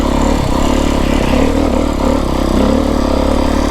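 Beta 350rr X-pro dirt bike climbing a rocky trail in the Santa Rita mountains, its engine droning loud and close with a steady rumbling throb throughout.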